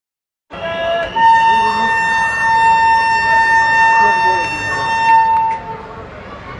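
A loud, sustained train horn of the 20858 Shirdi–Puri Superfast blasts with steady harmonic tones for several seconds over junction station noise, fading slightly at the end.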